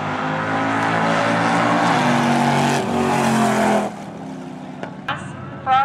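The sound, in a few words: drag racing cars at Coles County Dragway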